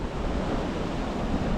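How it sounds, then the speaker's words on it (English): Ocean water washing in and splashing against rocks along a Hobe Sound, Florida shoreline, a steady broadband rush of surf with wind noise on the microphone, continuous and fairly close with no voices. "Watching the water come and splash in on the rocks here."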